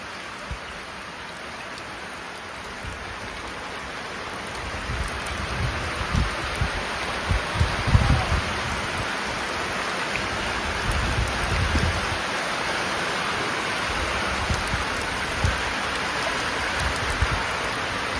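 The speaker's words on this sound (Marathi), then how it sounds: "हा पाऊस आता पुरच आणेल आपल्या इथं." Heavy night rain pouring outdoors, a steady broad wash of rainfall with scattered louder drips and patters landing on nearby surfaces, constant and fairly close for the whole stretch, with no talking.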